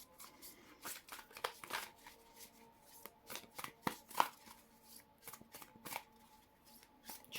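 Tarot cards are shuffled by hand in repeated quick riffles and soft slaps, close by and fairly quiet, with short pauses between bursts.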